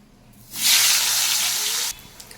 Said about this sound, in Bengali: উচ্ছে কটাকে ভেজে নিচ্ছি।